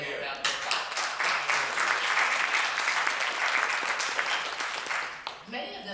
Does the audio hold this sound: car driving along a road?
no